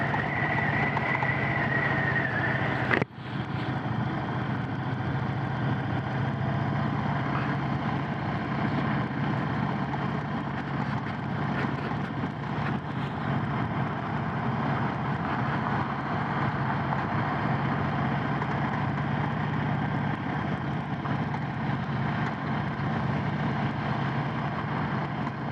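A 2022 Indian Chief motorcycle rumbles along at a steady cruise, its engine drone mixed with road and wind rush, with one brief knock early on.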